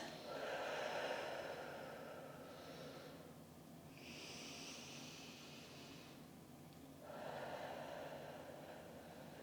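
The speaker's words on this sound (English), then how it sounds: "take in some deep breaths" Slow, deep breathing, close and soft: long airy inhales and exhales in a quiet room, three or four unhurried cycles with brief pauses between.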